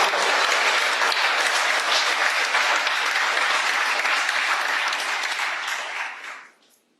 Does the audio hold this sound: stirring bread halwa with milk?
no